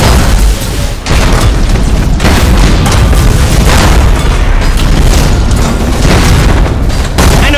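A loud, sustained explosion as an enemy defense platform is destroyed in Battlefleet Gothic Armada 2, a dense rumbling roar with repeated booming bursts that fills the whole stretch, only briefly dipping near the start.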